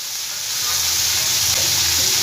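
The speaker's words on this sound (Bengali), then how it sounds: "হাফ চামচ জিরে গুঁড়ো দিলাম, খুব অল্প পরিমাণে আমি নুন দিলাম স্বাদ মতন," Ground cumin and salt hit hot oil in a pan for a savory bread filling, giving a loud, steady sizzling hiss close up with no speech.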